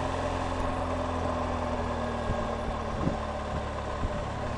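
Motorcycle engine cruising at a steady pace in third gear, a low, even drone blended with road and wind noise, with a few soft bumps.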